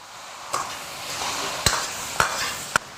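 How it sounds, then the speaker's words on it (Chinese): Pork ribs with potato, green and red peppers, onion and cooking wine stir-fried in a hot pan, a steady sizzle broken by four sharp spatula scrapes against the metal. "烹入一点料酒，这样子才能够把调料炒化"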